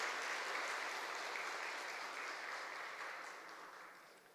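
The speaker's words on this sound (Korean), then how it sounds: "박수로 격려합니다." Church congregation applauding during a worship service, a soft, even wash of clapping from a large room that holds steady and then slowly fades toward the end.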